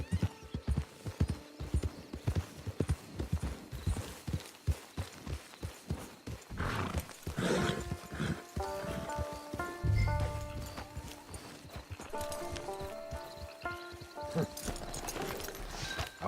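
Rhythmic hoofbeats of a galloping horse in Red Dead Redemption 2 Online, with a whinny partway through, over game music with steady tonal notes.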